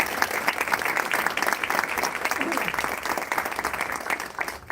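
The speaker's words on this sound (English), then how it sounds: "Please give him a huge round of applause." Audience applause at a multicultural apprenticeship awards evening, steady dense clapping filling the hall for several seconds as the founder is welcomed onto the platform, with faint voices mixed in.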